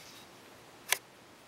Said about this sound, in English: And all I'm doing is pressing the shutter button.